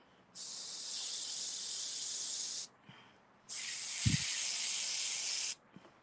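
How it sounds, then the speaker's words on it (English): An airbrush sprays paint in two long, steady, close hissing bursts of about two seconds each, separated by a short pause, while a zombie unicorn is being painted; no one speaks. "see how fast that is with the airbrush?"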